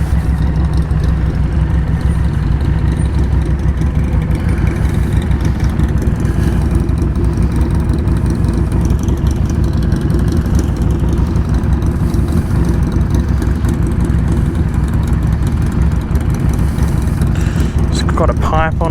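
A 2017 Harley-Davidson Street 500 cruiser with an aftermarket pipe idles close by, a loud, steady low rumble with a throbbing exhaust note that holds for the whole stretch.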